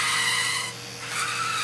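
A braking sound effect played through a fischertechnik TXT controller's speaker, a short synthetic tyre-skid screech with a brief dip partway through.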